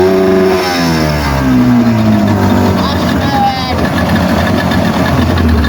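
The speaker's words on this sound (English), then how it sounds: "I'm gonna rev it up for the spark plug ignite right here" Outboard boat engine with freshly changed spark plugs, running steadily and loud throughout with shifting revs, up close and with no talk over it.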